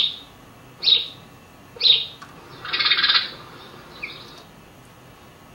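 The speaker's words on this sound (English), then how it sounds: "House sparrow." A house sparrow gives a few sharp, bright chirps spaced about a second apart, then a longer buzzy chatter and one faint final note, clear and close in a quiet setting.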